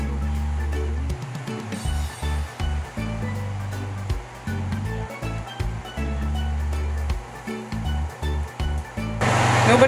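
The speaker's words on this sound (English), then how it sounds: "Nobody panic, it's just water. Throw it in." Water pours into a cooking pot during an outdoor Trinidad cook-up of breadfruit oil down. The rushing splash runs loud and steady for several seconds, with low thumps and a brief hiss at the end.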